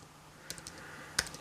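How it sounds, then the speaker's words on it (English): Quiet tapping on a computer keyboard, a few sparse, uneven key clicks with one sharper strike near the end, close by in a calm room. "Hopefully you can still see that as I'm typing away."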